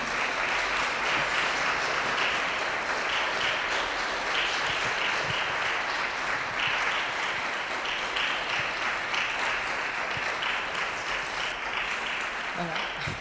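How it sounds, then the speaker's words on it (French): Dense, sustained applause from an audience after a talk on restoration work, loud and even from start to finish with no speech over it. "Je pense qu'on peut l'applaudir encore une fois bien fort."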